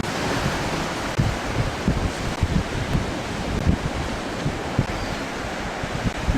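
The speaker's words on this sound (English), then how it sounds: "These are good waves." Ocean surf rolls and breaks steadily on an English shoreline, a broad continuous wash with repeated low thumps as waves crash, roughened by wind buffeting the microphone, with no talking.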